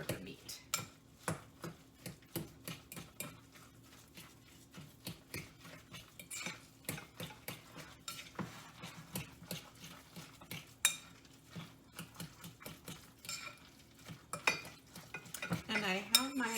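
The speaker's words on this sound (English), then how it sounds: "And then we'll mix it all up with our pound of hamburger meat." Hamburger meat is worked together for a classic meatloaf, giving a steady run of soft squishing and clicking utensil taps against a bowl at close range, with no talking.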